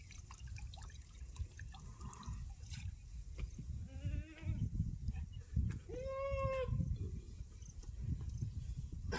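A goat bleats a few times in a wild hillside setting near a mountain spring, short wavering calls that stand out clearly over a steady background of running water.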